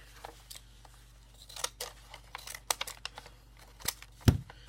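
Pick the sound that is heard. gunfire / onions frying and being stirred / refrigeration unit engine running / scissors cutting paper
scissors cutting paper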